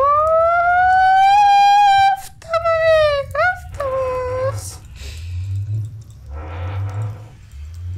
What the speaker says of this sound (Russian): ну промышленную сирену подключить